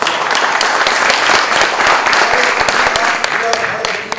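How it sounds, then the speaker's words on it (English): Loud close applause from an audience honouring NASDAQ at a bell-ringing event, sharp individual claps dense and rapid throughout, with voices mixed in. "So please give them a big round of applause."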